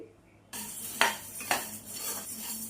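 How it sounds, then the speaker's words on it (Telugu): Coriander seeds dry-roasting in a pan, stirred with a metal spoon: two sharp scraping clinks against the pan followed by a soft rattle of seeds, close and fairly quiet. "మూడు వందల గ్రాముల ధనియాలు మనం లైట్గా వేపుకోవాలి"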